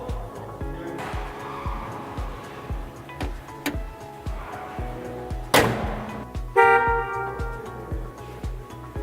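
A car horn blares for a couple of seconds near the end, loud and close, over steady rhythmic ticking and engine sounds.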